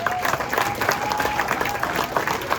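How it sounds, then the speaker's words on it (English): A crowd at a sports gathering claps for an absent team, dense and continuous applause at a moderate distance, with a faint steady tone running underneath. "they deserve a round of applause as well"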